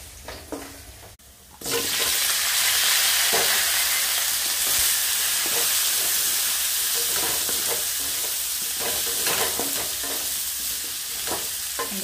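Drumstick vegetable pieces hit hot oil in a pan, and a loud, sudden sizzle starts after a brief quiet moment. The close frying noise continues steadily with stirring, and nobody speaks.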